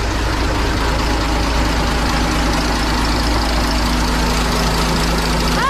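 A loud, steady engine idling close by, a deep continuous rumble with a faint mechanical knock, running alone without voices.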